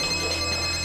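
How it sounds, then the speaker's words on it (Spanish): A telephone rings in one short, continuous electronic tone that fills the moment with no voices. "Teléfono."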